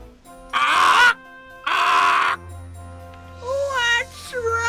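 A cartoon parrot squawks in two loud, harsh bursts, followed by a short wavering, whistly cry; a low hum runs beneath.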